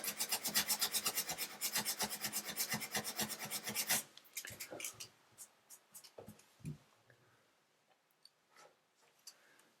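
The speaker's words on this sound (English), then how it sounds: "600 grit sandpaper is pretty aggressive, and on these gel coat or acrylic type tubs it won't take long to get this sanded down" Fine 600 grit sandpaper rubs over a chipped acrylic bathtub in quick, rhythmic back-and-forth strokes for several seconds, then gives way to scattered soft taps and handling noises, close and fairly quiet.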